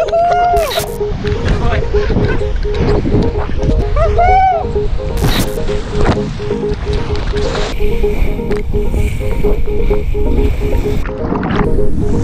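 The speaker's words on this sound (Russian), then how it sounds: "Атлантический океан!" Atlantic Ocean waves wash steadily under gusty wind buffeting the microphone, a continuous broadband rush with people talking and calling out over it.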